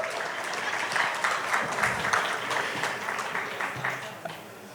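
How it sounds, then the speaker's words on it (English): An audience at an Indigenous forum applauds for an organizer, a dense, steady clapping of a mid-sized crowd that tapers off toward the end. "So a little bit of a round of applause for my friend Nicole over there"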